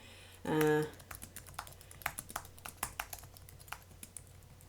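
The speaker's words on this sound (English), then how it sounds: "I'm just going to type this in," Keys tapped in quick irregular bursts on a computer keyboard, close and crisp against a low hum, after a short electronic beep at the start.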